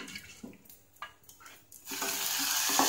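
Turmeric and salt are stirred into a homemade energy drink, first with soft clinks and light scraping in a vessel, then a steady close rushing, pouring swirl of liquid with no talk.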